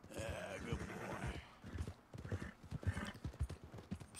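A horse in the video game Red Dead Redemption II clip-clops at a walk with even hoofbeats and snorts or whinnies, fairly close, with someone talking quietly early on.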